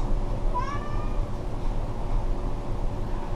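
A cat lets out a single short meow near the start, over a steady low room hum, then the space falls quiet apart from the background drone.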